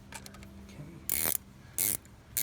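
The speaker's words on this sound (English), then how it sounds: "The click sounds good, but it was going in the wrong way." A ratchet clicks on a coil hold-down bolt of a 2003 Toyota V6 during spark plug replacement, short close clicking runs broken by two harsh loud bursts.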